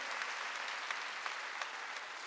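A church congregation applauds during a Wednesday worship service, steady, dense clapping held at a low level without a break for the whole short stretch.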